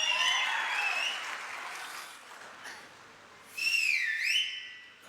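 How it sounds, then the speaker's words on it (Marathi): Crowd at a political rally in Barshi clapping in a loud, sustained burst with shrill whistles over it, easing off, then swelling again with more whistling. "ऍडव्हान्स टाळी वाजवायची का? आता वाजवा"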